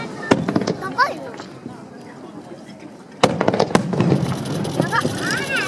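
Festival fireworks above the sea go off in sharp bursts, one early crack and then a louder pair a few seconds later, with crackling between, as nearby people talk over them.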